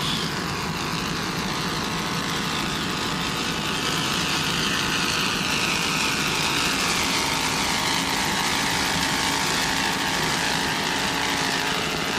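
A 39-foot Fountain offshore racing powerboat with twin 740 hp Sterling inboard engines and Mercury drives roars steadily through an offshore grand prix race, a constant loud engine drone with no pause.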